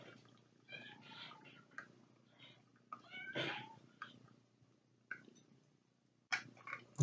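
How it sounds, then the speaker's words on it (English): A kitten indoors at night gives a series of faint, high, short meows, spaced irregularly and heard close but quiet. "Can you hear the kitten?"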